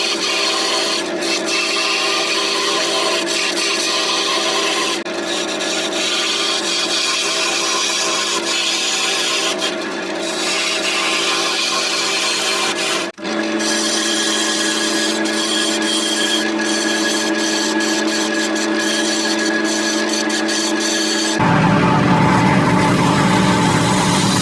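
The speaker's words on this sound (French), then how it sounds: "Donc avec une gouge à profiler ou une gouge à bol, hein, c'est un peu comme vous voulez, vous allez faire l'arrondi." A profiling gouge cuts a spinning chestnut block on a wood lathe, giving a loud, continuous scraping rasp with sharp tonal whine and brief pauses, the tone shifting as the tool moves across the wood.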